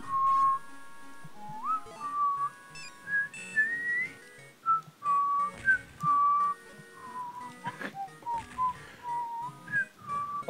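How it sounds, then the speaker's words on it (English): Whistling from the video game Hamtaro: Ham Ham Heartbreak, a string of short, clear whistled notes rising and falling in a bouncy tune over quiet game music, with no speech. "I wonder how long Chelsea's gonna relish in her newfound skill of whistling."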